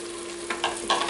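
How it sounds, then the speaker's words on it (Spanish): Half an onion and half an Italian green pepper, finely chopped, fry in a pot with a steady close sizzle and a couple of sharp bursts as the pieces hit the hot oil. "vamos a ponerle la cebolla y el pimiento verde. Media cebolla y medio pimiento verde italiano cortado pequeñito."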